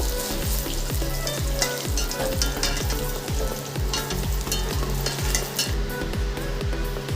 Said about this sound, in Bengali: পটলগুলো আমি হালকা লাল করে ভেজে নিয়েছি।